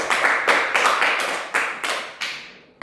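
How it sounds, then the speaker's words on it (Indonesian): Classroom applause for a student, heard as a handful of clustered bursts of hand clapping. The rhythm is irregular and the clapping fades over a few seconds, with no talk over it. "Beri aplaus dulu untuk teman yang telah berani menjawab."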